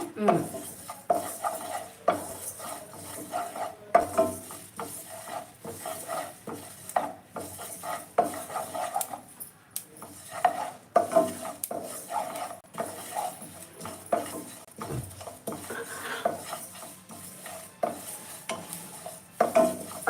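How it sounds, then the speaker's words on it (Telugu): Ingredients including sesame seeds dry-roast in a pan while a spoon stirs and scrapes steadily, a rhythmic run of clinks and scrapes over a faint sizzle, close by. "అన్నీ వేయించుకోవాలి అన్నీ అన్నీ దోరగా వేయించుకొని"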